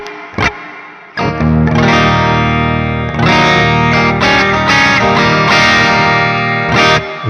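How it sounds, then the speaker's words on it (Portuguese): Electric guitar run through the Neural DSP Gojira amp plugin with reverb added, playing loud sustained distorted chords with a brief pause near the start and a long reverberant tail, no voices. "Fica mais ou menos esse reverb aqui"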